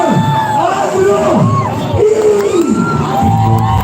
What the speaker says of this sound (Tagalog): Magpalakpakan na may kasanang Hiyawan!